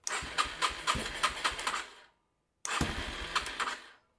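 A small engine started with the choke on catches and runs in a rough, sputtering burst for about two seconds, cuts out, then fires again and chugs unevenly, close and fairly loud.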